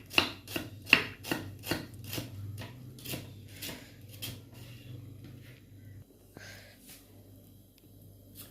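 Sharp knife strikes chopping onions on a wooden block, quick and evenly spaced at first, then slowing and fading, with a low steady hum underneath.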